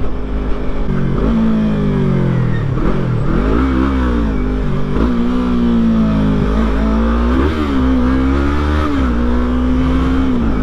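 A Dodge Charger accelerates hard past a small electric bike in traffic, its loud engine roaring and rising and falling in pitch through repeated revs, close and dominant for about ten seconds.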